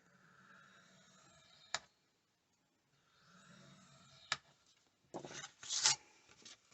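A bone folder scores paper along the groove of a paper trimmer, making soft scraping rubs in two strokes, each ending in a sharp click, then a louder rasping scrape near the end.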